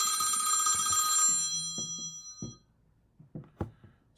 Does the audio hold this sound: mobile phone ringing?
yes